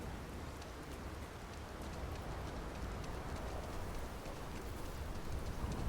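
Soft, steady rainfall in the video game Starfield, a faint, even patter of drops spread evenly throughout with no speech.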